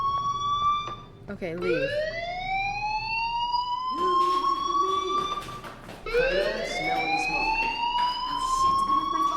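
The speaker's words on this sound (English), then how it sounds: "Hey, do you hear that fire alarm?" A fire alarm in the video game Life is Strange wails in repeated rising sweeps, loud and continuous, as a brief spoken line sounds over it.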